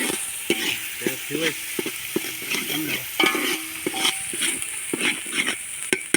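Onion, coconut and mint masala frying in a pan over an outdoor wood fire, a crackling sizzle broken by repeated scraping and stirring strokes at an uneven rhythm.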